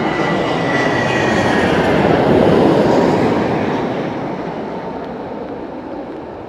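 Aircraft at Heathrow Airport in high winds, a loud rushing engine roar mixed with wind that swells to a peak and then slowly fades.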